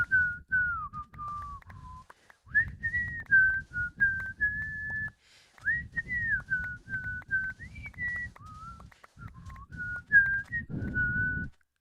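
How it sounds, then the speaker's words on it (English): A person whistles a melodic tune into a microphone during a livestream: a long run of close, loud pitched phrases with brief pauses, accompanied by low background sound. "How's my whistling going?"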